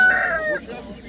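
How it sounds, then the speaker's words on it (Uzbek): A rooster crows once, loud and close, a brief harmonic call fading within a second, at a poultry market in Samarkand. "Mana xo'rozlar."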